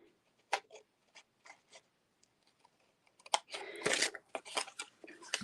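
Scissors snipping a crooked edge off a paper craft treat box, a few sparse quiet cuts followed by a denser burst of crisp cutting and paper rustling close by.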